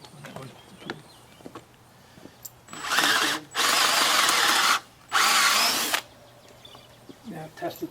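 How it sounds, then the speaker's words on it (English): Power drill boring through material for a bed frame in a 2017 Dodge Grand Caravan van build, three loud sustained whirring bursts with short gaps, preceded and followed by quieter shuffling and faint voices. "drill this for me?"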